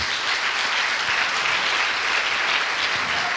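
A church congregation gives an even, continuous wash of applause at moderate volume, thick and unbroken from start to finish, with no speech over it.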